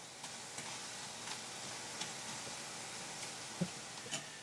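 Tortilla chips fry in a pan of oil for chilaquiles, a quiet steady sizzle with occasional soft ticks and pops, no voices.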